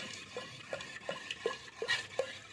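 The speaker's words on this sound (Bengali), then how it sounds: "আমি আগে ডোটাকে ভালোভাবে ফেটিয়ে নিচ্ছি" Rice flour batter for chakli pitha being whisked in a bowl, a steady run of soft rhythmic strokes and light taps repeating about every third of a second, close and fairly quiet with no talking.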